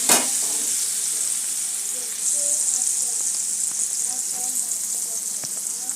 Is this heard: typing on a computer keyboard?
no